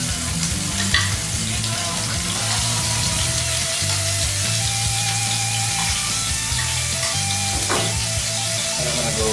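Scallops seasoned with peppercorn searing in a hot pan, a steady loud sizzle and crackle from start to finish with faint clinks, and no talking.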